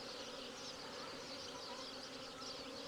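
Bees and wasps swarm around a beehive entrance under attack, giving off a dense, continuous buzzing drone that stays steady and close throughout, with no voices.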